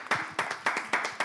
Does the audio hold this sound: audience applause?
yes